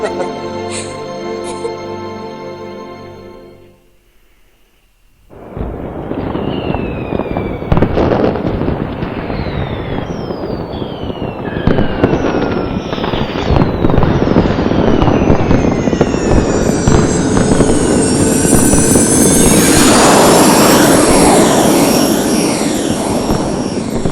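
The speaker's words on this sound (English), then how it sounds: "Gotta love these fireworks." Fireworks in the Final Fantasy XIII video game start after a soft musical passage and a brief lull, with whistling rockets, rising shrieks and a dense, loud roar of crackling bursts that builds to the end.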